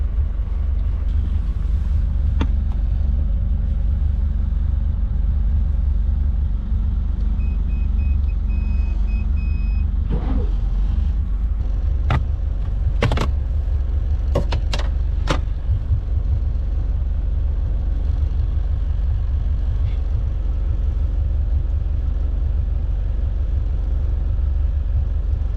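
A high-compression inboard boat engine, cold-started, settles into a loud steady idle with a deep low drone, while a few sharp clanks or beeps briefly cut through around the middle.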